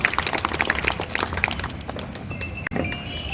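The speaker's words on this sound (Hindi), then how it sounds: "ताली बजाते उनका हम स्वागत करें," An audience at a school dry-ration distribution claps together in a dense, even burst that thins out toward the end, with no voices on top.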